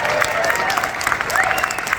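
Audience applause in a speaking event hall, a dense patter of clapping hands at moderate loudness, mixed with a few voices over the top.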